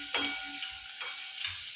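Onion and tomato fry in a pan for a soybean curry, a soft sizzle broken by a few stirring scrapes and light clinks, close and fairly quiet with no voices.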